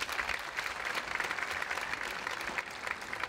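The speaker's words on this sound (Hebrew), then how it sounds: "מחיאות כפיים לאורית" Dense, steady applause from a dance school audience at a youth dance show's closing thank-yous, filling the whole stretch at even loudness with no voices over it.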